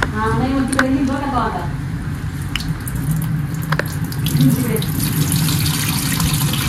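Water pours and trickles close by, splashing as it drains from washed rice, while a voice talks over the running water.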